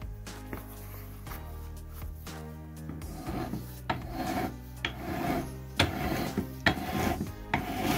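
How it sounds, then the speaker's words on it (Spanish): A strip-cutting machine slices leather into straps for repairing old armor, giving repeated close rasping, rubbing cuts with soft knocks over a faint musical background, and no one speaks. "Con la ayuda de una máquina de cortar tiras, vamos a cortar las correas."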